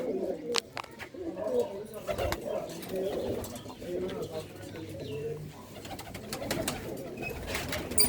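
Large female pigeons sitting in a neighbouring coop coo in soft, repeated low calls, with a voice talking over them at moderate distance.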